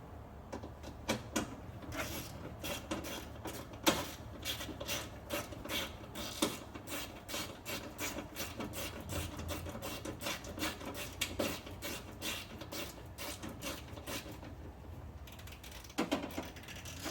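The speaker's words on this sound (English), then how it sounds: "These two screws back in, and they're 10 millimeter." Ten-millimetre screws being driven back into a Mitsubishi Mirage door panel during a window regulator replacement, a close run of rapid ratcheting clicks and scraping mechanical rattles, dense and fairly steady, with no voices.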